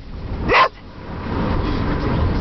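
Inside a moving car on the way to the park, a dog lets out one loud, close bark, followed by a steady low rumble of road and engine noise.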